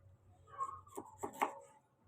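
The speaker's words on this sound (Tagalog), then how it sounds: "ito, iiwain ko po yung luya." A knife slicing fresh ginger root on a board for a homemade 3-in-1 coffee, with a few distinct cutting strokes close by in a quiet room and no talking.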